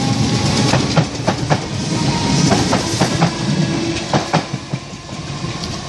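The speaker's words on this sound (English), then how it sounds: "Love the Merseyrail 5:07 5:08, seems to accelerate quick." A Merseyrail electric train pulls away from Sandhills station and picks up speed, with a steady rumble and a run of sharp clickety-clack wheel beats over the rail joints, heard close by with no talking.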